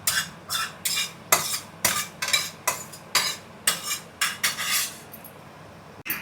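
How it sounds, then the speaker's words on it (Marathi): Poppy seeds roasting over a low gas flame as a utensil stirs them in a pan, about a dozen rhythmic scraping strokes close by, ending with a sharp knock. "तर बारीक गॅसवरच ती थोडीशी अशी रोस्ट करणार आहे."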